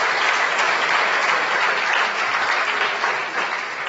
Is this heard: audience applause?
yes